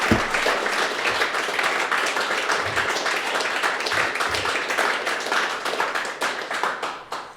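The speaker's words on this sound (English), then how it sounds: "let's give these guys all a round of applause." An audience claps steadily for panel guests at an Austin Bitcoin Club event, a dense, sustained round of applause heard alone without voices, tapering slightly at the end.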